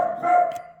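A dog lets out a single short, loud bark close by, a brief sharp woof standing alone.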